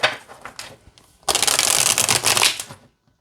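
A tarot deck is riffled in a few short taps, then given one loud, close, continuous shuffle lasting about a second and a half before it stops cleanly.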